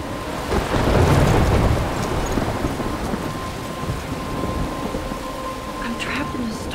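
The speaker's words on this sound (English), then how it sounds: "I'm trapped in a storm?" Thunderstorm in the video game Life is Strange: steady heavy rain with a deep rolling thunder rumble swelling early, then a continuous dense downpour hiss, close and enveloping.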